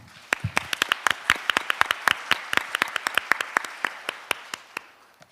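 A small audience at an international development conference in Seoul claps to welcome a speaker, with sparse, distinct, fairly close handclaps in an uneven rhythm that thins out toward the end.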